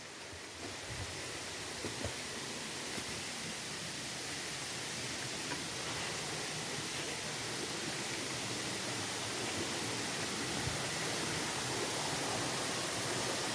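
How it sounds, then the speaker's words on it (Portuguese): Waterfall at the Cascata da Colmeia on a forest trail, a steady broadband roar of falling water that stays loud and unbroken throughout, with no talk over it. "É aqui a cascata já."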